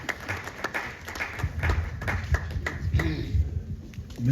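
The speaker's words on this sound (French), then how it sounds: "Applaudissez pour M." Light scattered clapping from an audience at an awards evening honoring excellence, fairly quiet with a few sharp individual claps over a low murmur of background noise.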